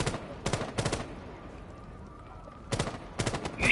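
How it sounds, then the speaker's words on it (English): Bursts of gunfire in the horror video game Rake, several rapid volleys near the start and again toward the end, loud and close, with a quiet stretch between them. "You shot me, bitch!"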